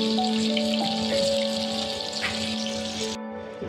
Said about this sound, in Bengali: তেলটা গরম হওয়ার পর মাছগুলো দিয়ে দিলাম। ডিম আঁচেই ভাজতে হবে।